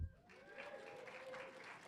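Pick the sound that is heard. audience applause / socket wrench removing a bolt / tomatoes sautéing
audience applause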